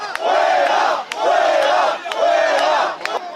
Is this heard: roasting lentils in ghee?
no